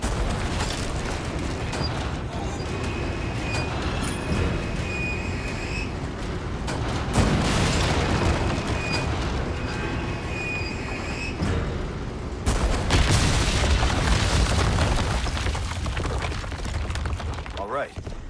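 Cannon fire and explosions in Resident Evil 4 Remake, heavy booms landing at intervals over dense game noise, mechanical clatter and a steady background.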